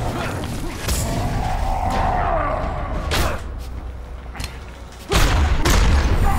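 Grenade explosion in the Injustice: Gods Among Us video game, a loud booming blast that rings on, followed by a few sharp bangs and a second heavy burst near the end, with a steady game background underneath.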